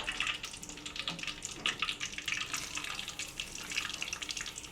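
Batch of potato French fries dropped into hot frying oil, giving a steady bright sizzle with dense crackling and popping throughout, no voices.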